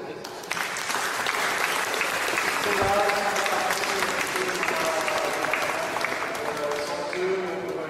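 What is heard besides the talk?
audience applauding volunteers at an exhibition opening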